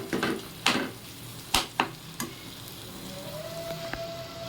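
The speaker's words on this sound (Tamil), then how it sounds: "ஸோ அந்த டூனாவோட பச்சை ஸ்மெல் போகிற அளவுக்கு நல்லா வதக்கிக்கலாம்." Tuna pieces sautéing in a pan for a fish masala, a steady soft sizzle broken by a few sharp spoon-and-pan scrapes and clicks, close and moderately quiet with no talking.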